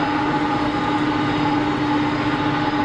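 Airbus A320neo jet departing Geneva Airport, a loud continuous engine roar with steady humming tones, unbroken and close.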